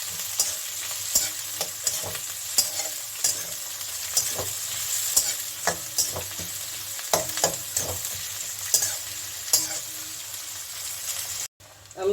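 Fresh medium-sliced onions frying in a pan for an old-style potato chicken jhol, a steady sizzle with repeated sharp scraping stirs, close and fairly loud, with faint talk in places.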